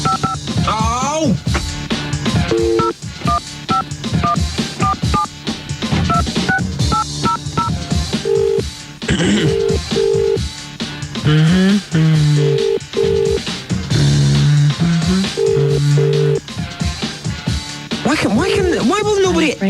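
A telephone number is dialed in a string of short DTMF beeps, a rapid series of tones in several clusters, heard under near-constant talk from people speaking throughout.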